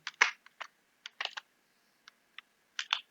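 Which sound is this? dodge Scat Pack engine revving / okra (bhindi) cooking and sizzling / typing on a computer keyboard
typing on a computer keyboard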